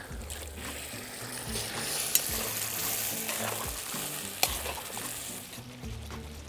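Meat frying in a kazan for Georgian kharcho, a steady sizzle with occasional scrapes and stirring clinks, continuous and close with no talking.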